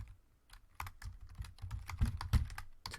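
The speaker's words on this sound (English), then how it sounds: "Oh wow, I'm not typing very well today." Typing on a computer keyboard while writing code, irregular bursts of close key clicks and clacks with short pauses between them and heavier thumps that sound like the space bar, alone with no talk.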